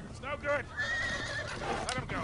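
A horse in the video game Uncharted 3 gives a loud, wavering whinny, with a second shorter neigh near the end, set against steady low background noise.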